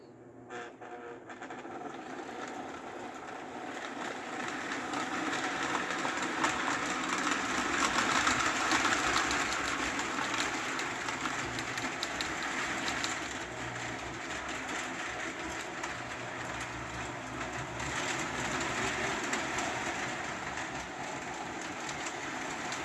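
A Lionel O gauge model locomotive creeps along slowly at low voltage, giving a steady, quiet mechanical whir and rumble that swells slightly midway and holds for the whole stretch, with no voices.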